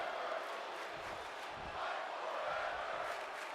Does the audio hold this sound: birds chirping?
no